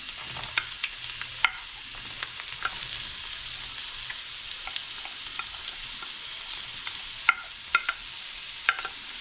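Onions sizzling steadily in hot oil with popping thyme for a Guyanese metemgee, a broad crackling hiss with scattered sharp pops and occasional stirring clicks, no talking.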